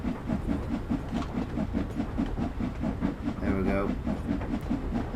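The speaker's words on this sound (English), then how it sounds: "She is sort of chuffing away there" Steam locomotive in Train Sim World 2 climbing the 1.1% incline out of Liverpool Lime Street, chuffing in an even, rapid rhythm under steady rail rumble and hiss, with a brief whistle-like tone midway and a short spoken remark.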